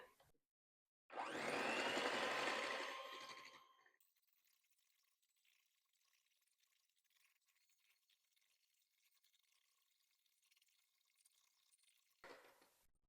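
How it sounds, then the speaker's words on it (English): Electric mixer whipping about a cup of cream, a loud whirring burst lasting a few seconds, then quiet with a faint low hum and a brief return of the motor at the end. "I'm going to mix that up with my mixer until it is nice and thick and fluffy"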